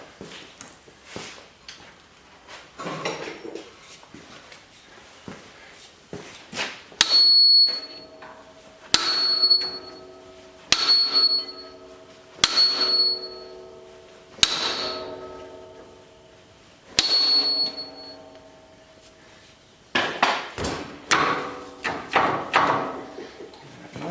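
Repeated metallic hammer strikes on a brake drum ring out, about eight sharp blows spaced a couple of seconds apart, each leaving a bright ringing tail, with some clatter before and after.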